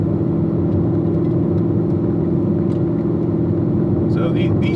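A C7 Corvette ZR1 engine drones steadily at an even pitch while driving twisty back roads, close and fairly loud, with a faint high chirp near the end.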